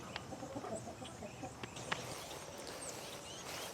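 Chickens cluck softly in a coop beside raised garden beds, faint scattered calls over a low background hiss.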